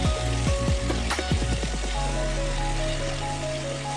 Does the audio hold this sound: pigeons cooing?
no